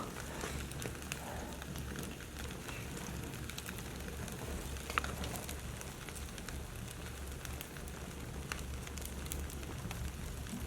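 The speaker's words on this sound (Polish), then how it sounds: "Spalimy tu w tym pięknym kominku." Fire in an indoor fireplace burning dead bees cleared from a hive in winter, giving a low, steady crackling hiss with faint scattered pops, quiet and continuous with no talking.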